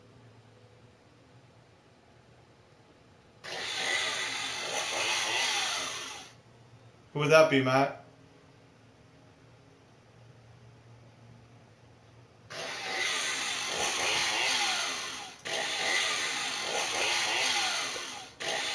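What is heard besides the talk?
chainsaw starting and revving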